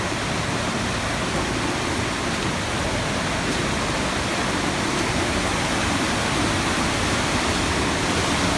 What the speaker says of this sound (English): right here is where we run back into the creek